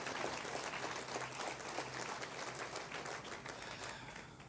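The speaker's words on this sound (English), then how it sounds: "I think Loretta deserves another round of applause also" Applause at a wellness center groundbreaking ceremony, a crowd's continuous clapping heard faintly and at a distance, steady throughout with a slight fade toward the end.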